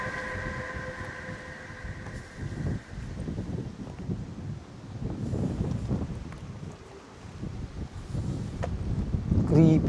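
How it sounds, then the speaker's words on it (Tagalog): Strong gusts roar across the microphone in a public cemetery at night, a rumbling, buffeting wash that swells and fades, with a faint tonal whine early on and low voices underneath. "Grabe, ang lakas ng hangin."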